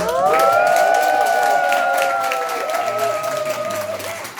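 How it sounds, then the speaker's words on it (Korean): Crowd at a Korean gathering gives loud applause and a sustained, drawn-out collective cheer that rings out together, then slowly tapers off. "큰 박수와 함성까지 부탁드립니다"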